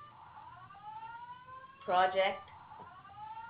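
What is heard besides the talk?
fire alarm going off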